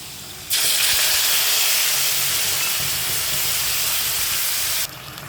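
Ground spices dropped into potatoes frying in oil with a black cumin tempering: a loud, steady sizzling hiss starts abruptly and holds for several seconds before cutting off.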